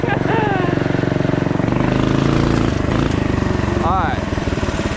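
A small off-road mini quad with big tires buzzes steadily on a test drive, its engine rising and falling in pitch under a voice speaking up close.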